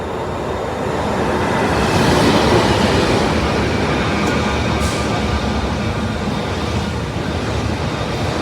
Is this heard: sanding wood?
no